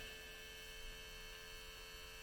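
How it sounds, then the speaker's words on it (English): Before a Nordic Tug 37 boat's engine starts, its electronics pressurize the common rail fuel system with a faint, steady electrical buzz and hum that continues unchanged, with no voices. "Before startup, you're going to hear a buzzing noise. It's the electronics package pressurizing the common rail fuel system."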